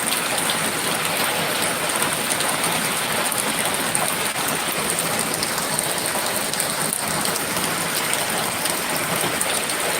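Steady rain falls on surfaces nearby in a dense, unbroken hiss of drops that stays even and fairly loud throughout, with no voices.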